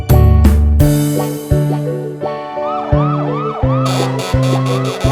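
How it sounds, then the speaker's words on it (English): A police car siren in a kids' cartoon song wails in repeated rising and falling sweeps over a bouncy, punchy musical backing, bright and loud. "I'm a police car, I am going on my rounds."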